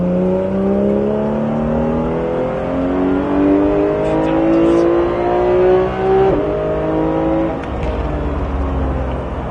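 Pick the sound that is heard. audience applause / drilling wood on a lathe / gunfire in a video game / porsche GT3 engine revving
porsche GT3 engine revving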